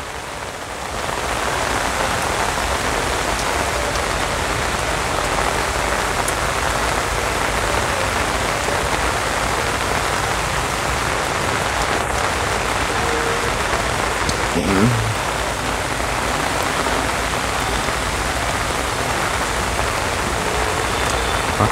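Heavy rain pours steadily, a dense continuous hiss of drops on surfaces, with a faint engine rumble low in the background.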